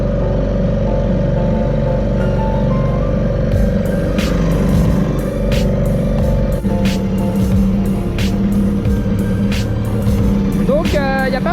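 A small temperamental petrol engine drones loud and close, then its pitch and load shift partway through as it is pushed harder, with a brief high whistle at the end and a voice talking over it.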